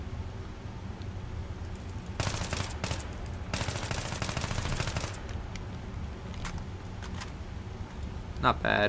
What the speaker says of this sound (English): And now I'm gonna use burst firing and control the recoil.